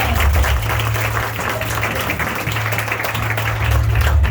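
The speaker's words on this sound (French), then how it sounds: "Applaudissez encore une fois, s'il vous plaît." Audience applause at a school graduation ceremony, sustained full clapping at close range with a low hum underneath, continuous from start to end.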